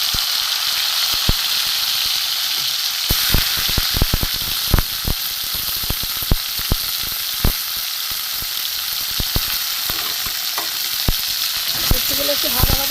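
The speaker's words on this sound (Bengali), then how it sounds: "উচ্ছেগুলো একটু ভাজা ভাজা করে নেবো" Bitter gourd pieces frying in hot oil with panch phoron, a loud continuous sizzle and hiss close by, broken by frequent sharp crackles and pops, with no voices.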